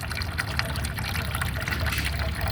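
Water splashing and trickling in the clogged drain basin of a park drinking fountain, a close, steady bubbling pour with no pauses.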